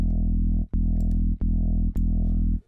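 Synth bass made in Vital, with a low sine wave frequency-modulating oscillator 1, giving a thick, buzzing, distorted low tone played as four sustained notes with brief clicky gaps between them, loud and alone.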